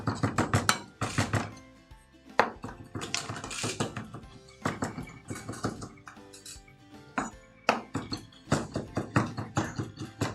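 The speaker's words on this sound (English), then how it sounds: "So this is just your fresh parsley. And we want this chopped up nice and fine." Fresh parsley being chopped finely with a knife on a board, heard as quick clusters of sharp taps and clinks in uneven bursts with short pauses between, close and fairly quiet.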